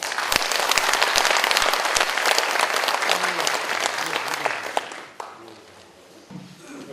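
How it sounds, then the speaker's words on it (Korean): Applause at a regional youth jobs forum, crisp and dense clapping from a seated audience that tapers off around five seconds, leaving scattered claps and a brief voice afterward. "우선 이 두 분께 뜨거운 박수 한번 부탁드립니다."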